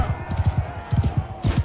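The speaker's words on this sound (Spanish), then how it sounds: "¿Por qué ese caballo corre más que el mío?" Horse galloping in the video game Mount & Blade II: Bannerlord, quick clustered hoofbeats in two bursts of rhythmic thuds, close and fairly loud over a faint game ambience.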